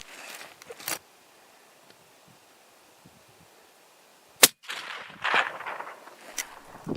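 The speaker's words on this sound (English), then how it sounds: "With a bang-on shot from Marty, Oh, yeah. the Tahr's lights were out" One sharp, loud rifle crack rings out on a Himalayan tahr hunt among rocks near the snow line, standing alone against quiet air before rustling movement and wind noise follow.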